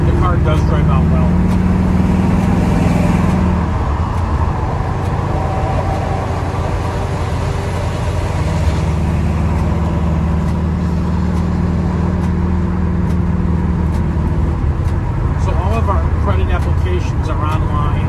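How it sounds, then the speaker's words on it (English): A 1970 Chevrolet Nova on a test drive gives a steady engine drone and road rumble throughout, with the engine note rising and falling as it accelerates. "The car does drive out well."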